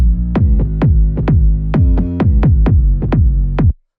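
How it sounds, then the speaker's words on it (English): An 808 bass tom with long, held-out decay plays alongside a kick drum in a lo-fi rave techno groove, with eleven evenly spaced pitched hits sounding loud and upfront over about four seconds before the pattern stops abruptly. "when you hear it with the kick, you actually get a really nice groove"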